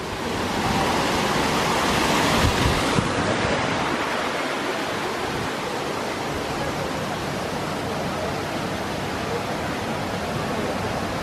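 Strong wind blows in a steady broadband roar, louder and gustier for the first few seconds, then settling into a constant rushing hiss with no voices.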